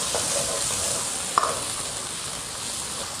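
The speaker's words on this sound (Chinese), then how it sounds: "把锅炙好， 下入码好的虾仁儿" Shrimp stir-frying in a hot, oiled wok, a steady loud sizzle with one brief clack of a utensil midway, and no talk.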